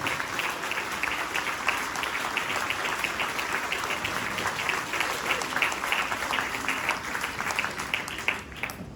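An audience at an inauguration event in Les Sables d'Olonne applauds steadily, a dense, even wash of many hands clapping that carries on for the whole stretch without letting up.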